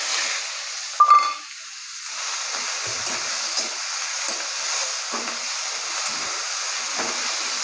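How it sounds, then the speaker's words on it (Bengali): Onion paste frying in hot oil in a wok, a steady close sizzle and hiss with a brief sharp spatter near the start, no talking. "পেঁয়াজটাকে ভালো করে ভেজে নেবো।"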